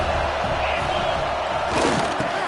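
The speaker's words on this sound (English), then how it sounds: "The Tide crowd rolling noise down onto Saban Field on 3rd down" An Alabama Crimson Tide football crowd roars at the stadium on third down, a dense, continuous wash of distant cheering that swells slightly near the end.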